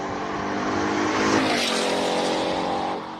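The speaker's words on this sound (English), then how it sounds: "It's Ford Mustang Mark 1." A Ford Mustang Mark 1 race car climbs a hill-climb course, its engine roaring steadily as it accelerates past fairly close, then easing off briefly with no voices.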